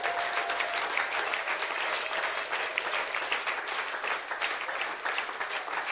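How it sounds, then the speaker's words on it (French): A church congregation breaks into sustained, even applause for the Lord during a sermon, a continuous crowd clapping heard from within the hall. "donnons une acclamation au Seigneur."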